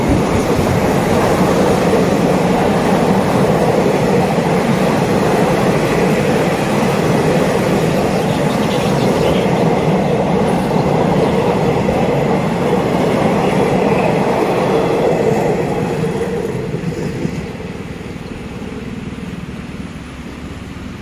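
A Thai railway train rolls steadily past close by at a level crossing on the way into Ban Khu Bua station, a loud continuous rumble and wheel clatter that fades slightly near the end.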